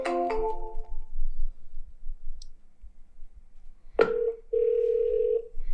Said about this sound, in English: We're going to dial out.